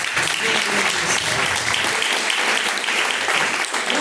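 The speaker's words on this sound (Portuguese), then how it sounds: "Palmas" Congregation at a live Pentecostal church service claps loudly and continuously, a thick, unbroken wash of hands filling the room without a pause.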